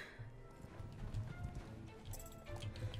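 Hooves of a Tennessee Walker horse being ridden in Star Stable Online, soft rhythmic clip-clop footfalls at an even gait, fairly quiet and close, with no talk.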